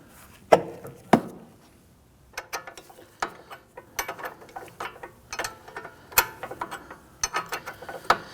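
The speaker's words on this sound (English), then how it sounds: "Let's see if we can loosen this." A rusted nut on the front strut of a 2001-2009 Volvo S60 is worked loose with a ratchet: irregular metallic clicks and clunks, a couple of sharper knocks early on, then a steady scatter of close ratcheting ticks.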